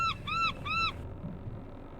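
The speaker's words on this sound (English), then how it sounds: "Hey, what's that? A seagull? There must be land ahead." A seagull calls in the video game Black Sails, three clear rising-falling cries in quick succession, fairly close, then dropping to quiet foggy ambience.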